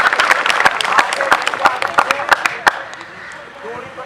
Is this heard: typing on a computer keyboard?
no